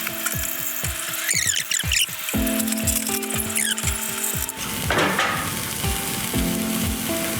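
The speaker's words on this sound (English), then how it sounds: "Make sure that you're constantly stirring this roux" Roux for gumbo sizzles loudly in a pot, close to the listener, while a utensil scrapes and stirs in repeated strokes across the bottom. No one speaks.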